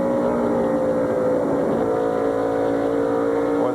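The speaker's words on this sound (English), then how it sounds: "You could hear him pick the throttle up way back in the corner, barely into the corner" A NASCAR stock car engine at the 1999 Dura Lube Big Kmart 400 drones loudly and steadily through a corner, its pitch rising as the throttle picks up, with crowd and track noise underneath.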